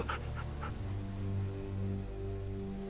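A dog named Sam, in The Walking Dead video game, pants in a few quick rhythmic breaths at the start, fairly close, over a steady low hum of game background noise.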